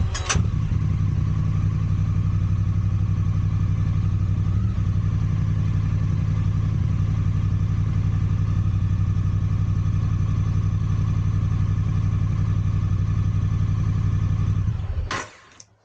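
A 2023 Triumph Bonneville motorcycle engine idles steadily up close with a constant low droning rumble, then cuts off abruptly at the end.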